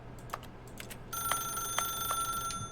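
A telephone in The Stanley Parable starts ringing partway through, sharp repeated electronic rings after a few soft clicks and taps at the start.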